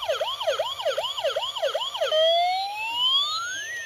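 An electronic toy fire truck siren wails in a fast repeating yelp, then switches to slow rising tones, loud and close with no voices.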